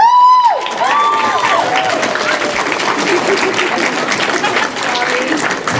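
Audience applause and cheering fill a voice actor panel at a 2014 roundtable, a dense steady wash of clapping from a large crowd that starts right after a brief sung or spoken tone and continues loudly throughout.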